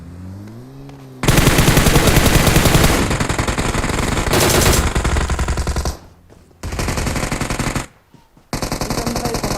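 Video-game machine gun fire hammers out in long, rapid bursts, loud and close, cut by short pauses and then sustained streams of shots, with a brief rising tone before the first burst.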